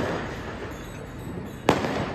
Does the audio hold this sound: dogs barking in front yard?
no